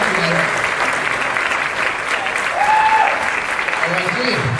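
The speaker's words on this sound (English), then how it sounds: "Round of applause for that performance, ladies and gentlemen." A crowd at a costume contest applauds after a performance, steady broad clapping filling the hall, with a voice briefly audible over it.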